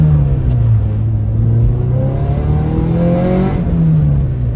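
A Honda Civic with a swapped full bolt-on K24 TSX engine revs hard up close, the pitch climbing and dropping in smooth sweeps, loud and alone without talk.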